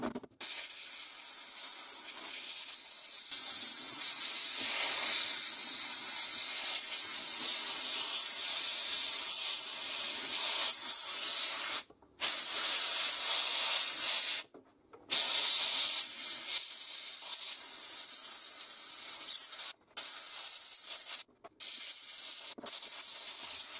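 Steam cleaner hisses loudly in long continuous bursts against a carburettor, with several brief cut-offs and restarts, spraying and sputtering throughout with no talk.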